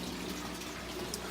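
Water pours steadily into the grow bed of an aquaponics system fitted with a bell siphon, a soft, continuous trickle and gurgle that is faint and close, with no talking.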